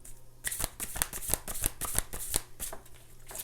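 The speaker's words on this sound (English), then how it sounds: "Let's grab one more card here." Tarot cards are shuffled up close, a quick run of crisp papery slaps and riffles in an uneven rhythm, loud and alone without talk.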